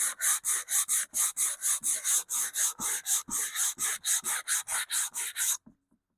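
A wooden tube radio cabinet being hand-sanded with 180 grit sandpaper: about two dozen quick, even back-and-forth scratchy strokes in a steady rhythm, close and loud, ending abruptly into silence.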